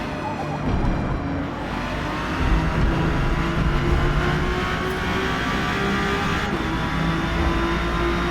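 A race car engine in Forza Motorsport, with an Acura NSX or MK3 Supra, holds a high sustained drone through 4th gear, then a quick shift into 3rd, loud and steady without speech.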